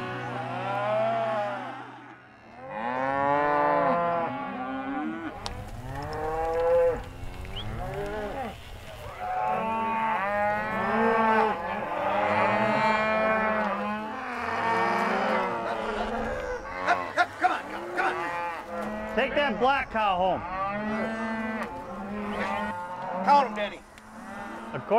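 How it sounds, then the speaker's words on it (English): Calves and cows moo repeatedly before being loaded onto a truck on a ranch, a chorus of drawn-out bellows overlapping loud and close throughout, with a brief human hush in among them. "we'll have 84 calves and 2 cows to put on the truck here"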